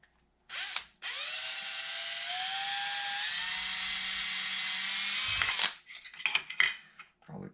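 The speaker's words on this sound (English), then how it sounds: "So I'm going to drill out" A power drill whines steadily for several seconds, its pitch rising as it bites in, then stops, followed by a few clattering tool sounds, drilling holes for fans on a Mojave 8s 1250kv motor.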